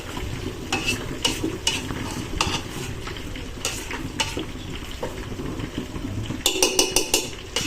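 Hotdogs sauté in a pan with a constant sizzle under repeated clinks and scrapes of a utensil against the pan, denser near the end, close up and with no voices.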